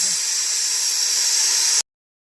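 Steam hisses loudly and steadily from a pressure cooker of mutton dum pukht as its whistle is lifted off, then cuts off abruptly into silence.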